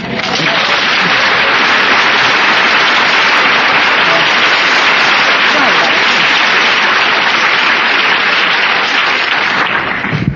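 A large crowd at an Alcoholics Anonymous speaker meeting applauds loudly and continuously, a dense, unbroken roar of clapping that fills the whole span at full strength.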